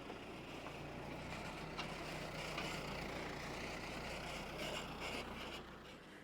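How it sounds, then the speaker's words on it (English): A truck pulls in to dump a load of about two tons, its steady engine rumble loud and close throughout, easing slightly near the end. "Here we have the car coming in, and we'll show you what it's like when they dump it."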